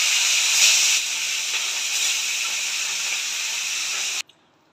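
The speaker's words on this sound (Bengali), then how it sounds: "তেল গরম হয়ে গেছে, এবার মাছগুলো ভাজা বসিয়ে দিয়ে" Fish rubbed with salt and turmeric sizzling in hot oil in a home kitchen: a steady bright hiss and crackle that holds for about four seconds, then cuts off abruptly into near silence.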